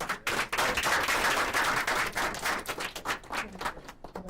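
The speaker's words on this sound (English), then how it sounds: "Another round of applause, please." An audience at a leadership forum on Marcus Garvey and Black freedom breaks into sustained applause, a dense crackle of many hands clapping that swells and then thins slightly toward the end.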